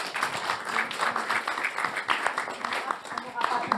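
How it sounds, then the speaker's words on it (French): Audience applause at the close of a talk on European electricity market reform, steady dense clapping throughout under and around a voice speaking. "on va les applaudir"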